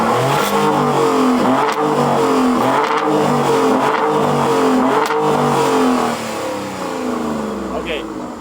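A performance SUV, either a Maserati Grecale Trofeo or an Alfa Romeo Stelvio SV, revs loudly in sport mode with a continuous rising and falling engine note, heard up close as people talk over it.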